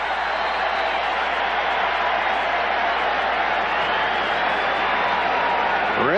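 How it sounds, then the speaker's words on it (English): Baseball stadium crowd at a 1990 World Series game between the A's and Reds, a steady, dense roar of voices filling the ballpark before the first pitch, loud and continuous throughout. "And the crowd gets revved up for the first pitch."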